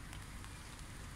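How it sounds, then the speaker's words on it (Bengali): Summer rain falls in a brief, faint, even patter on surfaces, with no voices. "একদিকে বৃষ্টি হচ্ছে"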